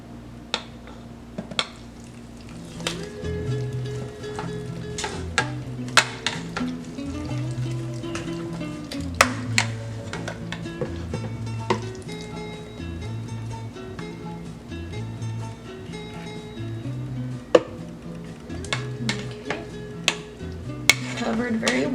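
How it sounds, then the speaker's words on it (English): Blended chile colorado sauce is poured into a hot pot and stirred, with a steady sizzle, soft scraping and occasional clinks of a utensil against the pot, close by and with no talk. "I will go ahead and add the chile colorado, the ingredients that I had mixed well and blended well in the blender."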